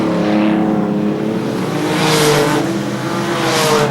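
A 1978 Super Rod British Championship race car, the race leader, sweeps past with a loud, sustained engine roar that swells twice as it goes by, harmonic whine rising and falling over steady track noise.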